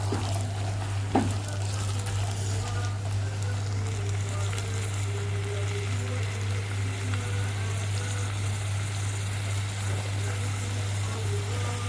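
Black-eyed peas frying and being stirred in a pot with browned onions, a steady low sizzle with occasional scrapes and clinks of the spoon, under a constant background hum.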